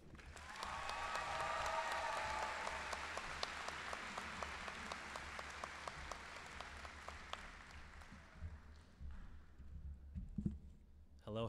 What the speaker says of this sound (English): Please give a round of applause for Gabriel.